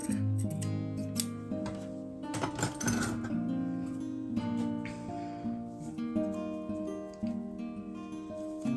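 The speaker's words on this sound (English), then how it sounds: "trim off the extra so that we don't have the bulk inside the headband" Scissors trimming excess sewn fabric from a DIY headband seam, quiet close snips with small clicks and rustling cloth, a cluster of sharper cuts in the middle, no talking.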